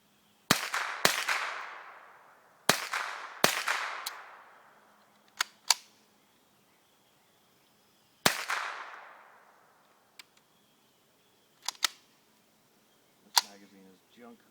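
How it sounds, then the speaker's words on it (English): Sharp .22 rifle shots from a Ruger 10/22 fired at a stump target about 50 yards off, several quick cracks in bursts with ringing decay, then a few fainter single pops and clicks. "We're going to see how many shots out of 5, how quick we can get in them."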